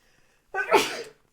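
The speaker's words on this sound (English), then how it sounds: "I have to sneeze." A single loud sneeze bursts out after a moment of near silence, sharp at the start and trailing off quickly.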